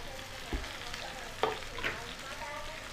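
Stuffed eggplant and onions fry in oil with a faint, soft sizzle, broken by a few quiet stirring knocks and scrapes of a spoon against the pan.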